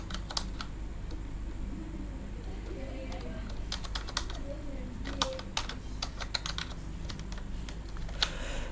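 Typing on a computer keyboard while working in Photoshop, with irregular clusters of close, crisp key clicks over a low background hum and no voices.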